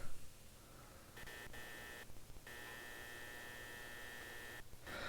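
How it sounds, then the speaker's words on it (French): A steady low electrical hum with a faint high-pitched buzzing whine, quiet and constant, like fluorescent ceiling lights in an empty room. "Avec le bruit de la lumière du niveau 0, est-ce que c'est possible que ça s'éteint?"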